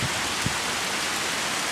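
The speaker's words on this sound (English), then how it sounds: "It's pouring." Heavy rain pouring down during a storm, a dense, loud, steady hiss of downpour that fills the whole moment without pause.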